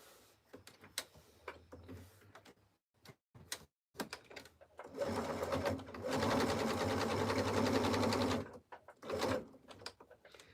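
A 198-stitch sewing machine runs in a steady sustained burr of stitching for about two seconds, framed by scattered clicks and handling taps before and after, with no talk.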